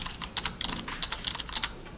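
Rapid computer keyboard typing in clustered bursts of crisp clicks, close and fairly clear against a quiet room, with no talking.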